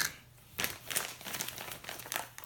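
Packaging for a Mazda ND Miata exhaust being unboxed, close crinkling and crumpling in irregular bursts as the taped wrapping is handled and pulled apart.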